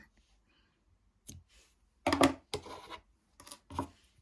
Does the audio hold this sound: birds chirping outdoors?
no